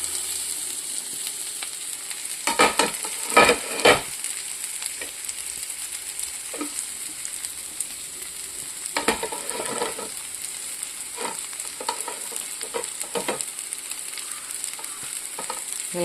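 Bajra flakes upma frying in a pan, with a steady sizzle throughout and scraping stirs bunched around a few moments, each spatula pass clear and close, no voices.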